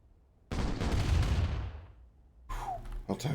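Airstrike explosions in the Command & Conquer Remastered strategy game: a heavy booming blast with a long rumbling decay, then a sharp second burst of impacts and a falling whistle, loud and close, with no talk.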